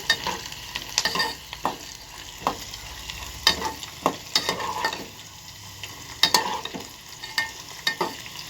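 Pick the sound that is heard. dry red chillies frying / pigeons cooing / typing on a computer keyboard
dry red chillies frying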